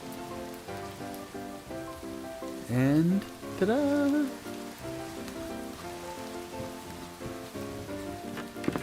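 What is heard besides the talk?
rain storm in a video game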